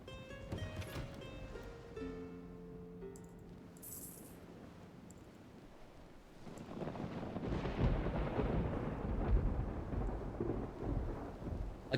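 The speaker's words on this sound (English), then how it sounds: "There's always a storm over Artisia." A storm rolls through in Mount & Blade 2: Bannerlord, steady rain building into a loud, rumbling thunder roll in the second half, with a faint musical tone fading out early on.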